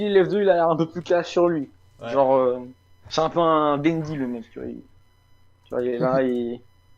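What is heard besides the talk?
None of the usual background noises is heard.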